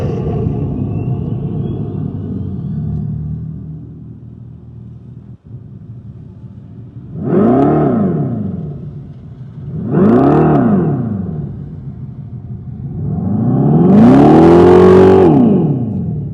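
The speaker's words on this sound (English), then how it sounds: "we actually have a Fratzonic chambered exhaust system. Even though this is an electric vehicle, it makes noise." A 2025 Dodge Charger Daytona electric muscle car plays its Fratzonic chambered exhaust sound: a low idle rumble, then three loud synthetic revs that swell and fall, the last longest and strongest, heard close with no talking.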